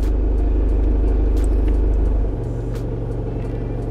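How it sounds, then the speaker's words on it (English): Steady low engine rumble and road noise inside a moving car in traffic, loud and continuous, dropping in level partway through as the car eases off, with faint clicks and no talk. "Oh, traffic."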